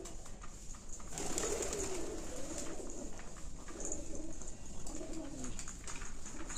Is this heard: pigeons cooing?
yes